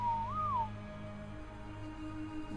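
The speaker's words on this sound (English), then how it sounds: "Let's go ahead and whistle passive." A whistle command in the ARK: Scorched Earth video game sounds as a short rising-and-falling tonal whistle near the start, clear over a steady low in-game hum.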